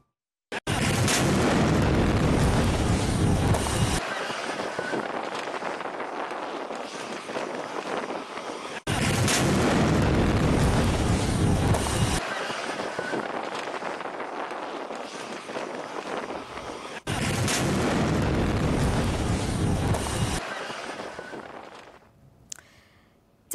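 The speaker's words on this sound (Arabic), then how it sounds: "سقوط صاروخ على مقربة من القاعة الشرفية أو الشرقية للمطار وكاد يستهدف الطائرة" A missile blast at Aden airport comes through as a series of three long, heavy roaring bursts, loud and close, each cutting off abruptly, before fading to quiet.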